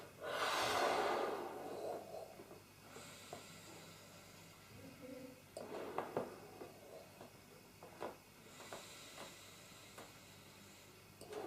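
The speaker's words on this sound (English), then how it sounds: "So, here we go with the balloon. You get to take a breath, blow it up." A person slowly blowing up a balloon without pinching it off, heard as quiet breathy exhales and inhales that repeat at a calm pace, close and soft.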